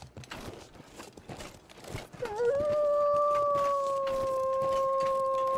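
A single long wolf howl from The Long Dark, set in the Hushed River Valley, rises and then holds steady, loud and alone over faint crunching footsteps.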